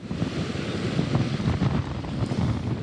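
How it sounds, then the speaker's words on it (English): Strong wind gusts buffeting the microphone outdoors as Storm Nicole approaches the Florida coast, a rough, rumbling low-frequency roar that surges and wavers across a few seconds. "The wind gusts are just getting super strong."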